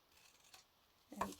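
Scissors cut through paper pages for small junk journal notebooks, giving a faint snip early on and then a louder, brief slicing crunch near the end, heard alone without talk.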